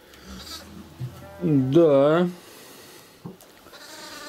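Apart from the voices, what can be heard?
young goats bleating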